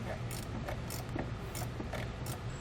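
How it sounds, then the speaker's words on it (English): Wrench or 5/8 inch socket tightening a nut onto a battery side bolt extender, giving a steady series of soft metallic ratcheting clicks in a quiet room. "We'll tighten it down using a 5/8 inch wrench or socket."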